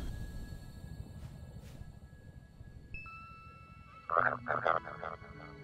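Frog croaking in the cozy exploration game Paradise Marsh, a few loud bursts of croaks near the end over faint ambient marsh sounds and brief chime tones, with a voice speaking earlier.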